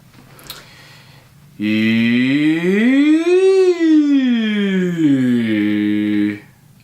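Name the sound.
voice imitating siren, vocal exercise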